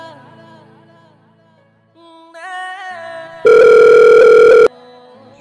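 A mobile phone rings with a melodic electronic ringtone that swells into a loud, steady tone lasting about a second before cutting off.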